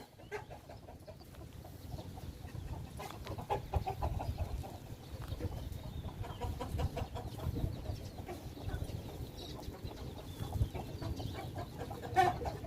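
Chickens and chicks cluck continuously in a busy coop, many birds overlapping with steady murmuring and occasional louder clucks, no speech.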